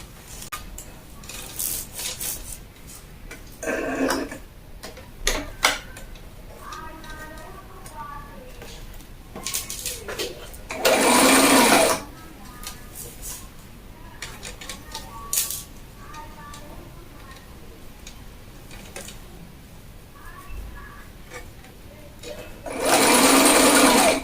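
A sewing machine stitches a sleeve into a bodice in short, rapid mechanical bursts, loud and close, separated by pauses with fabric rustling and handling while someone talks between runs.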